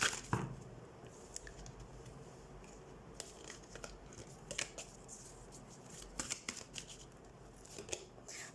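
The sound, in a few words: shuffling tarot cards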